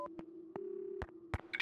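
A telephone line tone in the video game Max Payne 2, a steady low electronic hum broken by several short clicks and crackles, quiet and thin like a receiver held to the ear.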